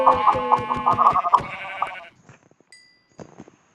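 Sheep in Minecraft bleat loudly in a fast wavering run of cries that cut off after about two seconds. Faint clicks and a short burst follow.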